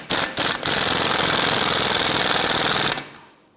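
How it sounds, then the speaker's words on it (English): An impact gun runs a 17 millimeter nut onto a new front strut assembly of a 2011-2015 Kia Sorento, with two short hammering bursts and then a sustained loud rattling run of about two and a half seconds, up close. "Let's put our impact gun on this."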